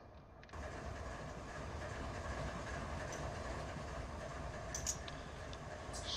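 An NS diesel locomotive idles in a train simulator game, a steady, even rumble that kicks in after about half a second and holds unchanged to the end, with no talking.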